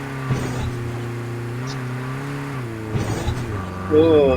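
A steady car engine drone in Call of Duty Blackout hums throughout, rising into a higher revving whine near the end, with a few thumps along the way.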